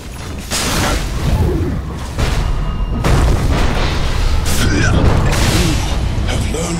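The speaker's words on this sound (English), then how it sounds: "Radiant's top tower is under attack." Rumbling booms and impact bursts from a Dota 2 battle as the Radiant top tower comes under attack, loud and continuous with dense, layered combat clatter and a voice speaking over the fighting.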